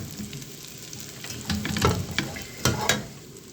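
Kunafa dough, traditional Egyptian style, cooking in a hot pan and being stirred, a soft steady sizzle broken by sharper scraping strokes of the utensil, close and fairly loud, with no voices.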